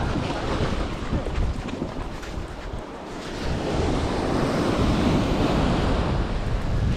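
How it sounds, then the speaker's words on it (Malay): Thick ocean waves rolling and breaking near the shore, a loud continuous wash of surf with wind buffeting the microphone, swelling stronger in the second half. "Gemuk pula ombak dia."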